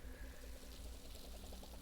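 In a farming video game, a watering can pours over planted seeds in a steady, close, continuous splashing stream that runs for the whole brief moment.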